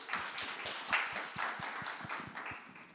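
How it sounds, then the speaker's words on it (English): An audience claps at a panel talk, a brief round of quiet, scattered hand claps with an irregular rhythm, faint and somewhat distant. "And clap it up for Phil"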